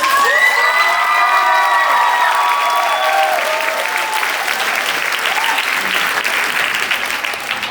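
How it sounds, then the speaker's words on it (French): Loud audience applause and cheering with shouts at a Quebec volleyball event, a dense steady wash of clapping and voices that fades slightly toward the end. "Tout le monde nous applaudit"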